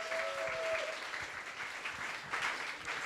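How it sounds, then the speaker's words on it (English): A town hall audience claps to welcome a panel speaker at a finance panel discussion, a brief, even wash of applause from a crowd, steady throughout and without speech. "Please give a big round of applause to welcome Mr. Francis"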